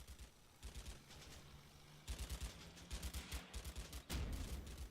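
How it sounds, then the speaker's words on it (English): Machine guns lay down suppressing fire in the Combat Mission Fortress Italy war game, sharp bursts of rapid shots in repeated clusters, moderately distant, with short pauses between volleys. "I'm suppressing that area with as many machine guns as I can bring to bear."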